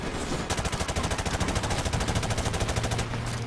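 Rapid automatic gunfire from the Modern Warfare Remastered campaign, a loud close burst of evenly spaced shots that runs for about two and a half seconds and then cuts off, with no voices.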